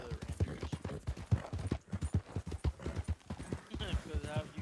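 Horse hooves clip-clopping in Red Dead Redemption 2, a steady close rhythm of soft hoof thuds running under casual joking talk throughout.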